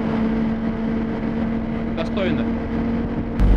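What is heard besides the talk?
PAZ-3237 city bus engine noise inside cabin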